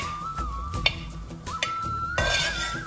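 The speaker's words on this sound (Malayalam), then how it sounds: "നെയ്ക്കകത്തൊന്ന് ഇളക്കി കൊടുക്കുന്നത്." Something frying in ghee in a pan for Kerala parippu pradhaman is stirred with a spoon, giving several metallic scrapes and clinks over a low sizzle, close and quiet, with a faint steady tone running underneath.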